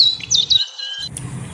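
Birds perched in a tree chirp in quick, bright high-pitched tweets over a soft low background, the calls clustered and near, dropping away briefly before another short burst of song.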